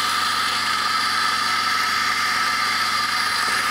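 A matzah coffee grinder on a Bezzera Aria setup grinding a double dose of beans, a steady, loud motorized whir with a dense high-pitched buzz running unbroken throughout, no voices.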